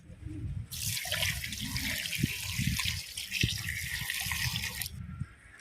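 Running water from a tap pours steadily for several seconds onto sardines in a sink or bowl, with soft splashing and a few knocks.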